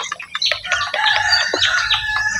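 An upgraded native chicken rooster crows close and loud in one raspy, wavering call lasting a couple of seconds, with faint clucks and chirps in the background.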